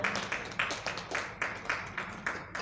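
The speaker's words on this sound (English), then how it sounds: "I think we should clap for ourselves" A small gathering at an activism event claps for itself, a short, fairly soft burst of rhythmic hand claps at a steady beat, fading slightly toward the end.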